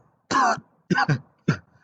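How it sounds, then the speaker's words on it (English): Three harsh coughs from an animated character, one longer hack followed by a quick double cough and a final short one, close and clear with no other sound. "You just coughed like a little bitch."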